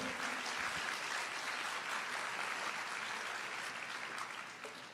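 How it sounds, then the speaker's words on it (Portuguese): A church congregation applauds during a sermon, a dense, steady wash of many hands clapping that holds evenly before tapering off at the end. "pode aplaudir"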